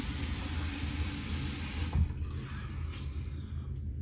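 A bathroom tap runs steadily as a man rinses his face after a wet shave, a close continuous splash that eases off partway through.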